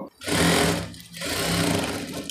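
A sewing machine stitches a maxi dress seam with a half-inch allowance, whirring loudly and steadily up close in two long runs separated by a brief slowdown.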